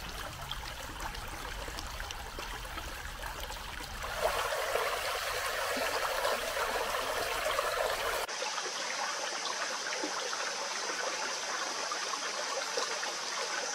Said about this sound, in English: I love the sound of the flowing water.